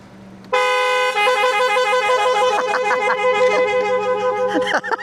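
An N-style Gokuon car horn sounds a sustained, tonal blast, then pulses in a rhythmic pattern of short honks, loud and close.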